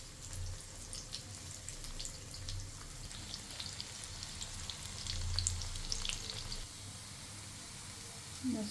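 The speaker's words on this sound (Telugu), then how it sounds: "ఆయిల్ వేడెక్కిన తర్వాత ఇలా ఒక్కొక్కటిగా కాకరకాయలన్నీ వేసుకోవాలి." Stuffed bitter gourds dropped one by one into hot oil and frying, a steady low sizzle and crackle held at close range throughout, with faint clinks over it.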